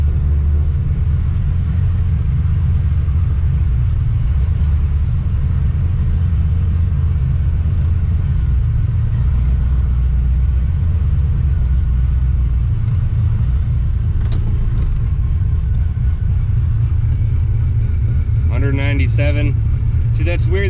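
An LSA-swapped Monte Carlo, an 18-foot-long car out on its first drive in three years, rumbles with a constant loud engine and road drone from inside the cabin while a voice talks over it.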